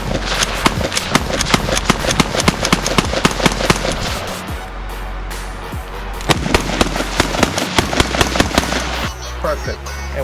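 A .223/5.56 rifle being test fired outdoors, with a long run of sharp, rapid gunshots and crackling reports over ten seconds, loud and close, with bits of voice between shots.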